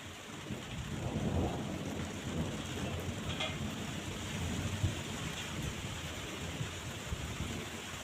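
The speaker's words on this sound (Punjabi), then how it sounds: "ਰੱਬ ਨੂੰ ਮੀਂਹ ਨਹੀਂ ਪਾਉਣਾ ਚਾਹੀਦਾ ਨਾ ਫੇਰ ਆ ਗਿਆ ਰੁਕ ਕੇ ਦੁਬਾਰਾ ਆਉਂਦਾ" Heavy rain pours steadily outdoors while low rumbling thunder rolls beneath it, a dense continuous wash of sound with a stronger rumble early on and no voices.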